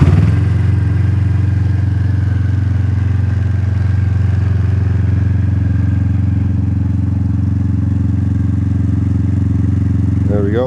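A 2009 Yamaha Venture motorcycle engine idles steadily and close by, a low, even throbbing rumble with a faint mechanical clatter throughout and no talk over it.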